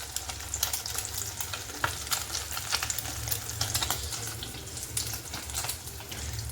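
An egg fries in a wok with a busy, close sizzle and crackle, punctuated by frequent sharp spits and pops and some scraping stirs.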